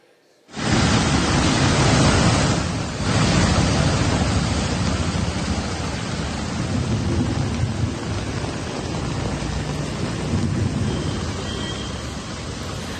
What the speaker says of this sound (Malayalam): കോഴിക്കോട് മുക്കത്തും കല്ലാച്ചിയിലും ശക്തമായ മഴയുണ്ട്